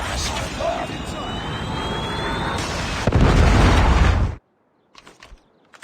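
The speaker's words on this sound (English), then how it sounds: "Friendly Predator missile inbound." A Predator missile strike in a shooter video game, a loud roaring rush of the incoming missile building to a heavy blast, then cutting to near silence with a few faint clicks.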